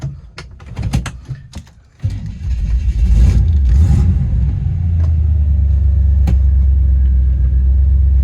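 A 1964 Chevrolet Impala SS with a rebuilt drivetrain starts off with some clunks and knocks, then its engine settles into a loud, steady low rumble as it drives down the street, close up, no talking.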